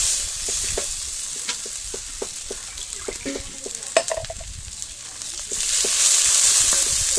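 Masala with chopped tomato fries in a clay kadai, giving a steady close sizzle broken by frequent spoon-stirring scrapes and taps, with the hiss growing louder toward the end and no talking.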